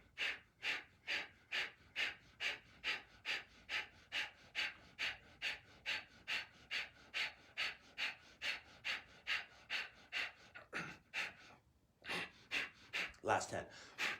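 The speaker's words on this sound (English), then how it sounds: "we're going to have short, sharp exhalations 40 times" Short, sharp forceful exhalations during a yoga class, delivered in a steady rapid series of about two dozen close bursts, then a brief pause and a few more breaths.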